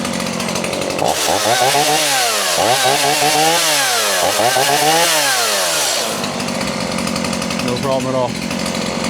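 A chainsaw engine idling and warming up after its fuel filter fills, a loud rough buzzing drone with wavering revs, briefly dipping and rising, while someone speaks over it near the end.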